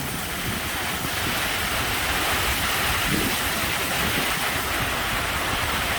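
Midday rain pours over rice paddies ready for planting, a loud, constant broadband hiss mixed with gusting wind and no voices.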